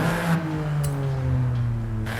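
A Ford Fiesta ST in Forza Horizon 5 revs hard, its engine note holding a steady droning pitch that shifts slightly, with a couple of brief sharp exhaust pops breaking through.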